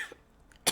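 A single short cough near the end, close and alone after a quiet pause.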